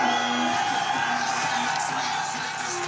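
A dense roadside crowd at a Tour de France mountain stage whoops and cheers in a sustained roar, loud and close, with a commentator's voice talking over it.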